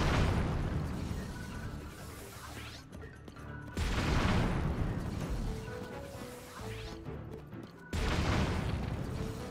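Zonai cannon drones exploding in the video game Tears of the Kingdom, three sharp booming blasts about four seconds apart, each decaying into a rumbling tail with crackling debris between them.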